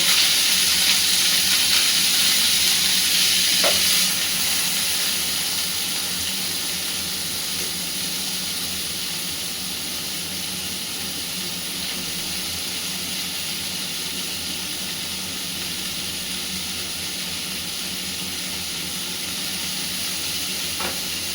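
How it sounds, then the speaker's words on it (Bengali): Paneer seasoned with turmeric and salt sizzles steadily in hot oil, a continuous loud frying hiss with faint stirring, heard close with no one talking. "তেল কিন্তু গরম হয়ে গেছে আর আমি এগুলোর মধ্যে একটু হলুদ একটু নুন কিন্তু দিয়ে নিয়েছি এবার আস্তে আস্তে এগুলো দিয়ে"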